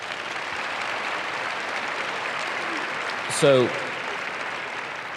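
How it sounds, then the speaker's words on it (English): An audience at a faith and family presidential forum claps in an even, continuous wash, and a single brief spoken word cuts through partway in. "could you clap?"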